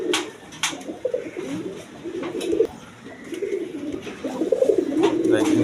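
A male Danish pigeon coos in a pigeon sale display, low throaty rolling calls repeating close by while someone talks over them.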